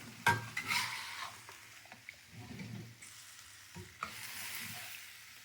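Vegan mapo tofu with broccoli and mushrooms is stirred in a pan, a utensil scraping and knocking against the pan over a quiet sizzle, with scattered clinks and soft scrapes.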